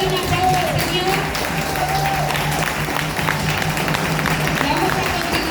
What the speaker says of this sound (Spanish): Si querés dar un aplauso al Señor